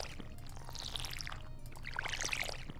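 Watering can pouring water in the Stardew Valley video game, a soft steady splashing pour with brighter trickling bursts, fairly quiet and alone with no talk.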